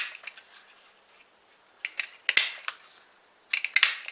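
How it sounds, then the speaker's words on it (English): A half-inch paper circle punch clicks and crunches through cardstock for a Ninja Turtle card, with brief sharp snaps in quick clusters and soft handling rustle between them, close and without talk. "we're going to use our ½ inch circle punch and cut out, in this case, 4 more eyes"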